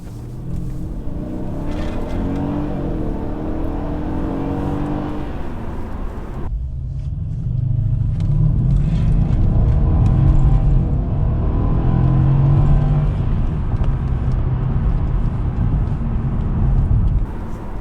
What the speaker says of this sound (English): let's test out the acceleration and see how nice this is